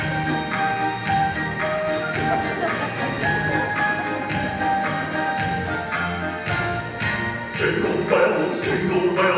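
Festive Christmas music with bright jingling bells plays continuously at a lively, steady rhythm, fairly loud and close.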